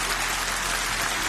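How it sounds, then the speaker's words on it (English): Applause at a formal political press event, a dense wash of clapping heard briefly and evenly, without distinct individual claps. "Applause."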